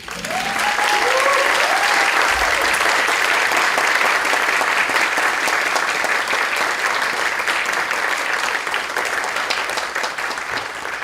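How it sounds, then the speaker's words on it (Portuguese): Sustained, dense applause from an audience at a literary talk, loud and even for the whole stretch, with a few voices briefly rising over the clapping near the start. "pedir ao público uma salva de palmas"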